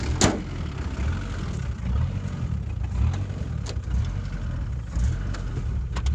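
A car engine running on sunflower cooking oil idles roughly and unevenly, occasionally rising slightly in revs, with faint clicks over the steady mechanical hum.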